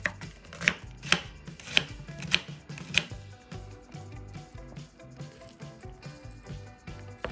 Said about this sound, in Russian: Половину красной, средней луковицы нарезаем четверть кольцами.